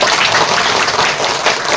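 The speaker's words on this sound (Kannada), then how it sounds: "ಜೋರಾದ ಚಪ್ಪಾಳೆ ಬರಲಿ" Loud, dense applause fills a birthday gathering as guests are welcomed, a steady close clapping with no break.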